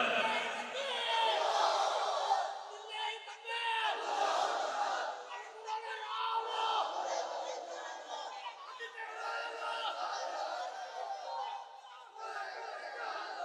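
At a religious tafsir mahfil gathering, a large crowd chants the slogan Allahu Akbar in loud, rhythmic, repeated surges of many voices, near and sustained.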